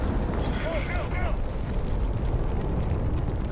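Drone strike explosion in Medal of Honor (2010), a loud, sustained rumbling blast filling the whole clip with debris and roar, while a voice speaks briefly over it.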